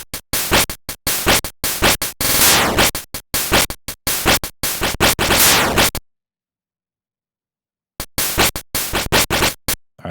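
Game Boy noise channel percussion sequenced in LSDJ, a loud, harsh, gritty pattern of rapid bursts and crunchy hits, close and dense, broken by about two seconds of silence before the pattern resumes.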